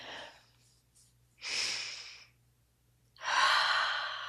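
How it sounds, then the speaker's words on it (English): Slow, deep breathing during a guided relaxation exercise: a long audible inhale, a pause, then a fuller, louder exhale, close and clear in a quiet room with no talking. "So you want to take a nice deep breath."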